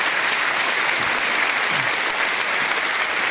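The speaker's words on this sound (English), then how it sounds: "Please, ladies and gentlemen, another round of applause for Scott Woodhouse and Tina Kiddell." Audience at a Reform UK local election rally in Norfolk applauding two local candidates, Scott Woodhouse and Tina Kiddell, a loud, steady wash of many clapping hands throughout.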